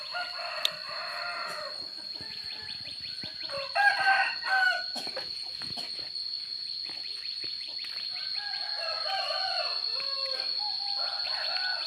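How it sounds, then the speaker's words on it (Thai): Several chickens cluck nearby and a rooster crows loudly midway, the calls coming in irregular bursts over a constant shrill hum of crickets, with no voices. "มีแต่ไก่"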